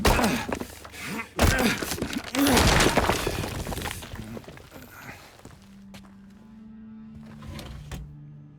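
In the Silent Hill 2 Remake video game, a character strikes a wall with a burst of heavy thumps and crunching, shattering impacts, followed by quieter scattered knocks and a low hum as the noise settles.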